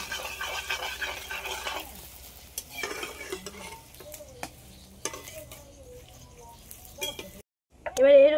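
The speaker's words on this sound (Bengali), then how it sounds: "আর ভেজে গুঁড়ো করে রাখা মশলাটা সবগুলো একসাথে এবার মেখে নেব।" Coriander leaves and roasted ground spices being mixed by hand into phuchka filling in a bowl, with soft squelching and scraping, light clinks of utensils and a few louder knocks, fairly close.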